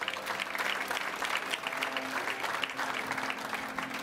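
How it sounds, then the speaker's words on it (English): Steady applause from a crowd at a handball championship qualifiers draw, continuous and moderately distant, with a faint background hum and no talking. "please give him a big applause"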